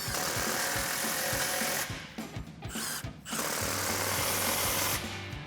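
An impact wrench with a 15mm socket tightens exhaust clamps on a 2024-2025 Toyota Tacoma, loud continuous rattling hammering bursts broken by two short pauses, close up and without talking.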